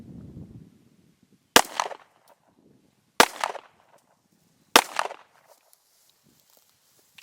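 Three sharp, loud 9mm pistol shots from a Remington R51 firing Winchester White Box ammunition, evenly spaced about a second and a half apart, each with a short echoing tail outdoors, no talking.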